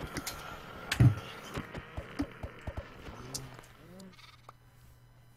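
Baby sheep bleating in a Minecraft-style farming video game, a series of short, evenly spaced bleats rising over a low hum, with a louder thump near the start and faint footsteps.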